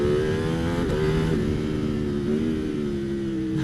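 A Ducati Panigale V4 SP2 sport bike engine pulls hard in second gear from around 5,500 RPM, a loud, continuous, rising engine note with a brief gear-like shift in pitch, heard up close and alone.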